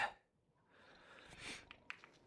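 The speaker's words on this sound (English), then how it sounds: "So I'm a little sniffling." A person who is under the weather sniffles, giving a few close, short nasal sniffs and snorts in a quiet setting.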